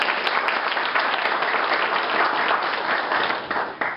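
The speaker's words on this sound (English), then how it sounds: "give him a round of applause" A crowd at an Irish heritage event breaks into steady, dense applause, loud and sustained for several seconds before beginning to taper off.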